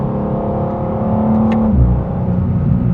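A 2025 BMW M2 LCI's S58 engine hums steadily, then drops in pitch with a deeper surge as the revs change, loud and close with no talking.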